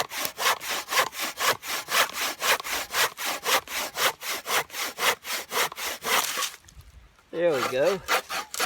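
A hand saw cuts through soft poplar wood in a fast, even rhythm of about twenty rasping strokes, close and clear, then stops. A voice speaks briefly and a short whine follows.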